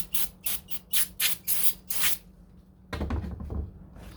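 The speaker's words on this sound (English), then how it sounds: "Just gonna use some brake cleaner real quick and see what comes off." Brake cleaner sprayed onto the clutch linkage parts of a 1969 C3 Corvette in a series of short, sharp hissing bursts, about eight in quick rhythm, followed by a pause and then a rougher clattering rustle.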